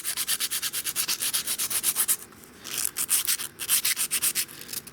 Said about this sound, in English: we're going to sand them up and make sure they go in there free